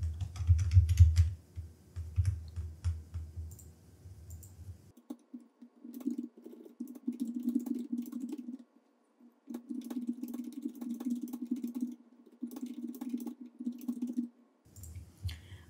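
Typing on a computer keyboard, bursts of rapid close clicks and key taps with short pauses between runs, plus a low background hum that drops out partway through.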